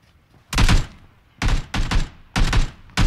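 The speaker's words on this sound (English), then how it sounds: "People are shooting." Gunfire in the PUBG battle royale game: three loud bursts of shots, each lasting under half a second, separated by short pauses, close and heavy with no talk over them.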